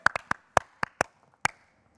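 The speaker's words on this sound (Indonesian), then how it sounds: "kasih tepuk tangan buat Iron" A handful of separate, sharp hand claps ring out close by at an online stand-up comedy audition, uneven and sparse rather than a full crowd's applause, fading to silence after about a second and a half.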